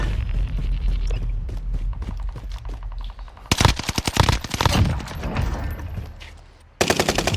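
Rapid gunfire in Call of Duty Warzone, loud and close, with bursts of automatic shots and heavy booms, pausing briefly before another burst resumes.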